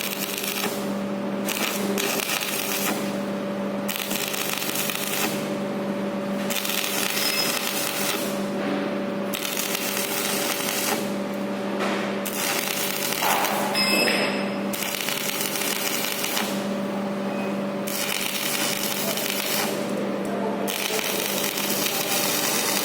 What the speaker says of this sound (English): then we actually will perform now the shielded metal arc welding for this workpiece